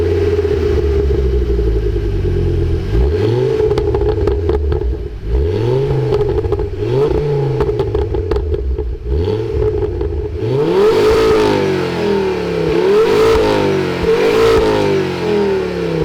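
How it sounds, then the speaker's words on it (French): Ford Focus ST Mk2 engine revving repeatedly, loud and close, each rise and fall of pitch in a rhythmic series, the revs climbing higher and harsher toward the end. "je te refais écouter ce magnifique moteur"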